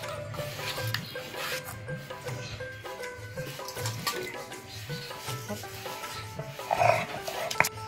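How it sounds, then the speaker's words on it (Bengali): Green chilies are crushed on a flat grinding stone, giving a rhythmic, repeated rubbing and rasping of stone on stone at close range, steady strokes with a brief louder scrape near the end. "বেটে নিব কাঁচা লঙ্কা"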